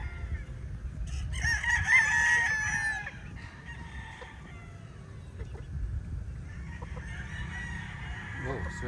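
Chickens in a DIY range area, with a prominent nearby rooster-like crow and clucking, then softer peeping and calls over low background rumble.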